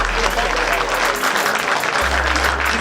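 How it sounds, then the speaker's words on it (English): An audience applauds the filmmakers at a film screening in Colombia, steady dense clapping from a crowd filling the room at full volume. "he wants to give a round of applause to the filmmakers"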